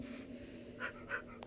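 A Minecraft wolf in the video game pants softly in quick breathy puffs, faint and close, with no talking over it.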